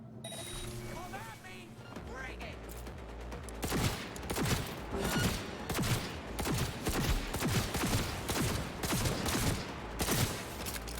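Repeated gunshots crack through a Cyberpunk 2077 boss fight in a dense, steady string of loud bursts over game music and effects, after a quieter opening, with a voice talking now and then.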